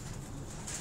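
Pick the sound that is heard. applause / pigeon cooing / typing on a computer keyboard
pigeon cooing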